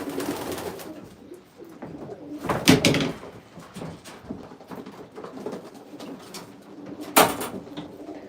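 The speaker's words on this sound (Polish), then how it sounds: "I tu jest kolejny gołąb." Domestic breeding pigeons coo in a loft, with soft repeated throaty calls throughout and a couple of sharp louder bursts, maybe wing flaps or knocks.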